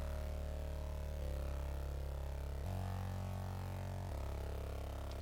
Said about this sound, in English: Growl bass.